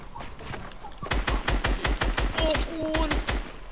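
Rapid bursts of gunfire from another player in the video game Fortnite, a dense run of sharp, loud shots lasting a couple of seconds, with a person talking over it.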